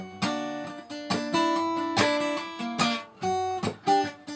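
Acoustic guitar fingerpicking, a melody line woven through chords with bass notes, played alone and close in clear plucked phrases.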